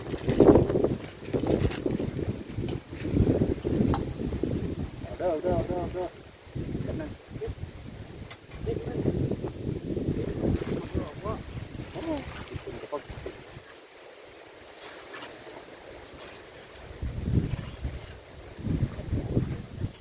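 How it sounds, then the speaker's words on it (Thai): Loud wind blowing and buffeting a microphone outdoors at a straw mushroom growing plot, gusty rumbling roar under someone talking almost throughout, easing briefly before picking up again. "เสียงสนั่นลมเนาะ"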